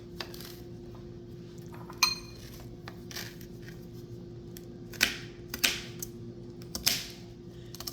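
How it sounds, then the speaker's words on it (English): A knife chopping garlic for homemade garlic powder, with sparse sharp taps and clicks on a cutting board over a steady low background hum. "you chop it up almost as small as you can"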